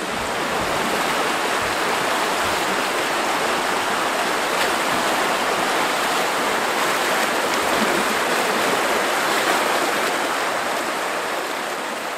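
Rushing current of the Malayan River flows steadily past a canoe, a loud, continuous broadband wash of moving water without pause.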